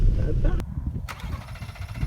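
A 2018 Ford EcoBoost engine, struggling in the cold, gives a short burst of cranking and then catches, settling into a running rumble amid speech and ambient noise.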